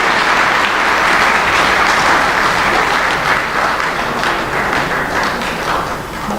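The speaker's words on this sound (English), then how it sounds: "So can I have a big round of applause" Sustained applause from a large seminar audience at an entrepreneurship and innovation event, dense and loud from start to finish, fading slightly toward the end with no talk over it.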